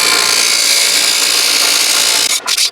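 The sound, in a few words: drill press sanding wood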